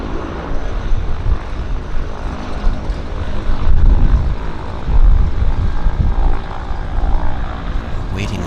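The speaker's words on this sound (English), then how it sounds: "Let's see where this Twin Otter is going to pour on the metal." A Twin Otter floatplane at a downtown harbour airport throttles up for its water takeoff, a broad steady propeller and turbine roar that swells around the middle of the stretch, heard from a distance with faint voices nearby.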